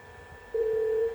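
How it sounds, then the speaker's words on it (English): A telephone tone begins about halfway through and holds as a steady, fairly loud electronic hum after a quiet start, with a faint higher tone in the background. "You hear the dial tone?"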